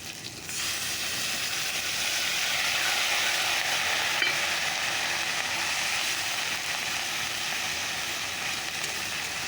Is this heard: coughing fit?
no